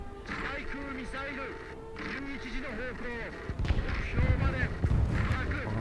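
Heavy booming tank cannon blasts sound amid War Thunder game noise, with someone talking over them throughout; the blasts grow denser and louder toward the end.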